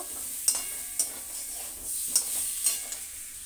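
Tomatoes and parboiled potatoes are fried and stirred in a pan, with rhythmic spatula scrapes about twice a second over a steady close sizzle.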